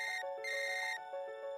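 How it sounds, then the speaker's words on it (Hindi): A telephone rings in a steady electronic two-tone trill, clean and close, ending as the call connects, with no voices. "तभी फोन लगने की आवाज आती है।"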